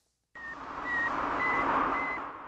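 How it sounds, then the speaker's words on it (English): A series of short, evenly spaced electronic beeps from the Sputnik satellite sounds over a broad hiss of radio static, after a brief silence. "Those are the beeps of Sputnik, the first artificial satellite in Earth's orbit."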